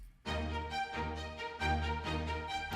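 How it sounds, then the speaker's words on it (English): Short, bouncy spiccato strings from the Afflatus Chapter 1 contemporary library play a looping pop pattern of rapid detached notes with pulsing accents and steady rhythm, rich and full, with no voices. "So here we have the contemporary string spiccato from Afflatus Chapter 1 strings."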